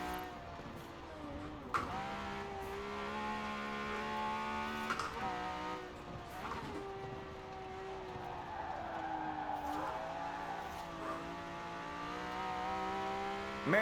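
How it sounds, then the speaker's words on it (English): A Ferrari 250 Le Mans V12 racing engine in Forza Horizon 4 whines steadily at high revs, pitch climbing and dropping through gear shifts, with occasional tire squeal underneath. "they just kind of really ruined that classic Ferrari V12 racing engine sound"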